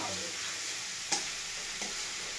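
Chicken and tomato being stirred in a frying pan: a steady sizzle with two brief utensil scrapes against the pan.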